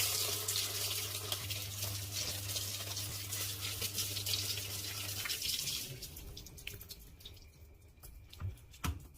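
Water rushes steadily into a washing machine after it starts, a loud hissing flow over a low hum that cuts off partway, leaving quieter drips and clicks.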